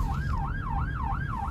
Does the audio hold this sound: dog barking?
no